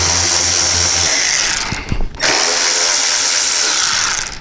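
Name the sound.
ratchet loosening hidden headlight bezel bolts on Harley Road Glide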